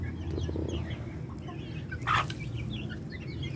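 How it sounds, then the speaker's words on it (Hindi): Soft clucking from a hen and chicks close by while feeding, low and steady, with a brief sharper chirp partway through. "मुर्गी और चूज़े"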